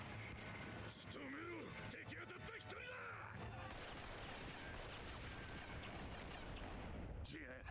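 Dense, continuous anime gunfire and explosive crashes fill a battle scene from One Piece, with whooshing effects and shouting voices layered over the relentless barrage.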